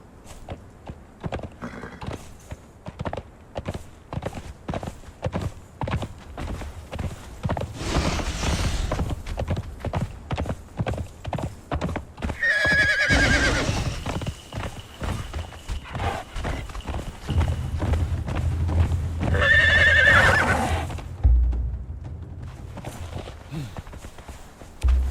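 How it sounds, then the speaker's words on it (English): A horse neighs and snorts over steady clip-clopping hooves in the video game Conan Exiles, with game-like effects in the background; loud and close, no talking. "Ill-behaved horse."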